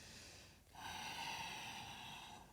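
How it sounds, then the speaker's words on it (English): A yoga practitioner's Ujjayi breath: a short pause, then one long, steady, hissing, snore-like exhale through the nose, soft and close. "Inhale and exhale through your nose, and you get that snoring sound on your exhale."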